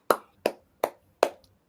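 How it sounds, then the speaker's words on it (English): Four evenly spaced, sharp hand claps, crisp and fairly close, each cutting off quickly, alone without talk. "Y'all give us a hand clap."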